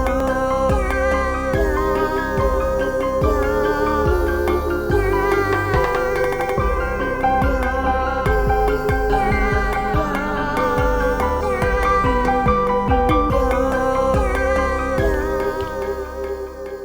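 A full electronic beat programmed on an Elektron Digitakt, with a prominent cowbell among the drums and an Arturia Mini V synth bass line, plays loud and steady throughout with dense layered melodic parts and no talking.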